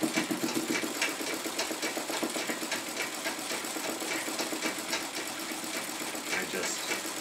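An old foot-powered treadle sewing machine stitching embroidery, giving a steady, fast mechanical clatter that runs continuously from start to finish, with a voice talking over it.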